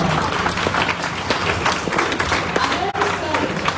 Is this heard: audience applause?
yes